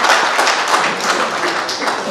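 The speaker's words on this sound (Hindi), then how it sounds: "जोरदार ताली से स्वागत." An audience at a Bahujan Samaj speech event claps to welcome Miss Vandana Rani, assistant professor at the University of Delhi, producing a dense, moderately loud patter of many hands with some voices mixed in.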